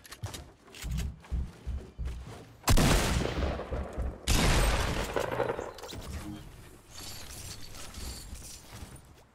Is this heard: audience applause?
no